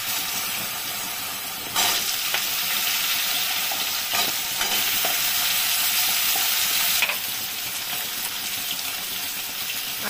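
Potatoes frying in hot oil with cinnamon, cardamom and cumin seeds give a steady broadband sizzle with no talk, rising louder for a stretch in the middle before settling back.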